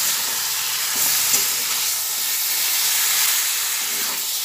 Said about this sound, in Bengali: দিয়ে আবার পুরো মাংসটার মধ্যে এটা মিশিয়ে দিচ্ছি